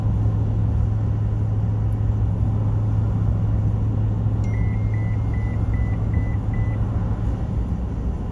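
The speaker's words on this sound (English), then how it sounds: "running right along 60 miles an hour, folks." Car cabin road noise at 60 mph on I-40 West through the mountains, a steady loud low rumble throughout with a short run of faint electronic beeps partway through and no talking.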